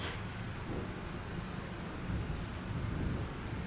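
Thunderstorm in the video game Life is Strange, a low rolling rumble of thunder over steady rain and wind noise, fairly faint and continuous with no voices.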